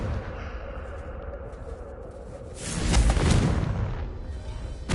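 A Confringo fire spell blasts in Hogwarts Legacy, a loud whooshing explosion swelling mid-clip over a steady low rumble of game ambience, then fading back.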